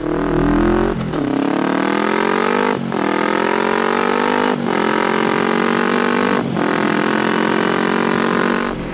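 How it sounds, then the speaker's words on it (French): Kawasaki ER5 motorcycle engine climbing through the gears at low revs, starting in first: loud and close, with a rising engine note that drops sharply at each of four quick shifts before building again. "ce bruit quand vous n'êtes pas dans les tours et que vous passez les vitesses"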